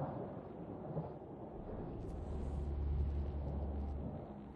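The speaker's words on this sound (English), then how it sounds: "Not with these storms." A thunderstorm in the video game Mass Effect: Andromeda: a steady deep rumble of thunder rolls on, swelling louder toward the middle and end, with a wash of storm noise and no voices.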